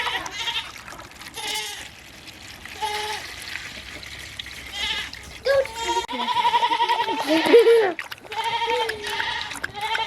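Goats bleat several times amid a farmyard bustle, with nearby voices talking over them and a louder, wavering cry toward the end.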